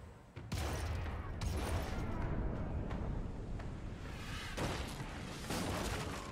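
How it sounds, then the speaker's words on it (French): Heavy booming port-side ship cannon fire with chain shot in a naval battle in Pillars of Eternity 2 rumbles continuously, with several sharper blasts landing over a dense, roaring battle din. "On va tirer avec les canons de bâbord hein"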